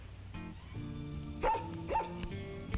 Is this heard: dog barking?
yes